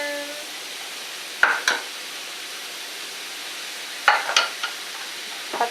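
Ground turkey and onion sizzle in a pan in a dorm kitchen, a steady low hiss broken by a few short, louder scraping bursts as the mixture is stirred.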